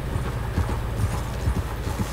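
Steady clip-clop of horse hooves in Red Dead Redemption 2, a continuous muffled trotting rhythm under ambient game noise, close and moderately loud, with no speech.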